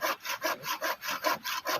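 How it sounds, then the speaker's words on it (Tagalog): Steady back-and-forth strokes of a hand saw through wood, about eight quick rasping passes in an even rhythm, close and clear. "Maglagari ka ng kahoy yan, wala kang pangsaing."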